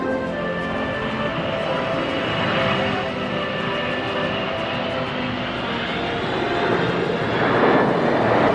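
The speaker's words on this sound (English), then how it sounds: "and roll along the runway and take off again." A Concorde jet rolls along a runway and takes off, a loud, sustained roar of engines with a steady broadband rush that swells slightly toward the end.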